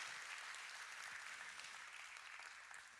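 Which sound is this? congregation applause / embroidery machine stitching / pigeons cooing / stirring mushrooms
congregation applause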